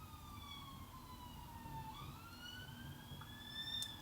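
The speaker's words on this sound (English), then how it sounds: "And there's the ambulance." An ambulance siren wails in the distance, its pitch sweeping up and down over steady traffic rumble, growing slightly louder toward the end.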